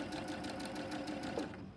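Sewing machine back stitching through layers of fabric, a steady rapid close whirring of needle strokes running continuously, fairly quiet and alone.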